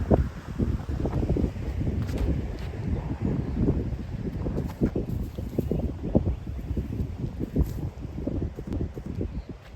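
Strong wind buffets the microphone outdoors on a disc golf course, a loud, continuous low rumble with gusty surges and faint rustling throughout.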